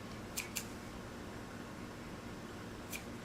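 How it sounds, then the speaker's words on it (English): Scissors snip yarn during machine knitting of a sock on a Passap machine: two quick close cuts, then a third a moment later, faint and crisp over a quiet room hiss. "Not the best scissors, but anyway."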